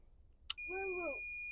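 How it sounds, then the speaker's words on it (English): A short click on a lowrider switch is followed by a steady multimeter continuity beep that begins and holds continuously, fairly quiet and close. "when I push the switch down, the multimeter should go beep"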